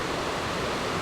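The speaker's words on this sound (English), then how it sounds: "this is the waterfall" Icelandic waterfall roars as a dense, steady broadband rush, loud and unbroken for a second with no voices.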